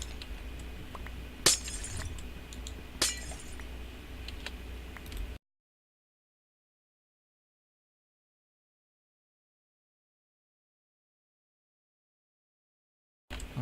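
Crystal formation in Minecraft being broken: two sharp glassy shatters with clinking over a busy game background, followed by a long stretch of silence.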